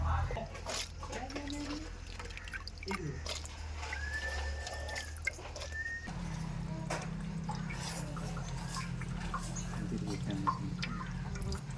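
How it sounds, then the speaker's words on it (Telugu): Soaked wild mushrooms are washed by hand in water, giving a steady close sloshing and splashing with small drips throughout, while a voice murmurs faintly underneath. "నానబెట్టాక కడగాలి ఇలా ఈ విధంగా"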